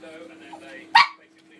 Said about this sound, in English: we can't do barking here